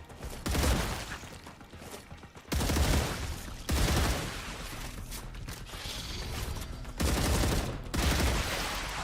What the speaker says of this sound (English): Bad shooting. Really bad shooting. Reloading. Better shooting.